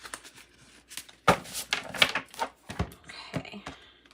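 Tarot cards being shuffled by hand during a monthly reading, giving a run of dry riffling and papery slaps in irregular bursts, fairly close and moderately loud with no talking.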